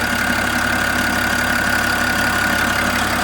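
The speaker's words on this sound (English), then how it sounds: "Duramax diesel inline 6, 3-liter, 277 horsepower, 460 pound-feet of torque." A 2021 GMC 1500 AT4 pickup's 3.0-liter Duramax diesel inline-six idles with the hood open: a close, steady, even rumble with a faint clattery diesel tick and a thin whine, unbroken throughout.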